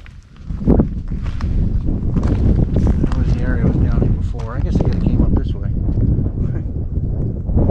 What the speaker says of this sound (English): Kind of nice breeze blowing through here.